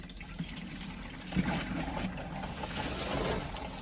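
Water trickles and runs through an RV toilet into the black holding tank while the rig is being winterized, a steady low wash of flowing liquid with a few soft knocks, close by and with no voices.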